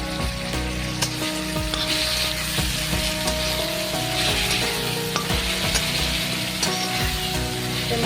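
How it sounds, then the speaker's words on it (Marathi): Chopped tomato sautéing in hot oil with golden-browned garlic in a pan while making a guava curry, a steady close sizzle and crackle running evenly throughout, with a faint mains-like hum underneath and no talking. "मी टोमॅटो चांगला परतून घेणार आहे."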